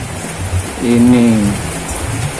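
Steady rain hiss fills the background, loud and continuous, while someone briefly speaks over it.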